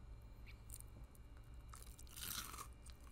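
Someone takes a close crunchy bite and chews a fried Popeyes chicken sandwich with pickles and spicy sauce. Several crisp crackling crunches come quickly, then a louder burst of crunching near the end.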